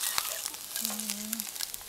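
Fried eggs sizzle in a pan with a steady, close crackle that holds through the clip, joined by a brief low hum partway through.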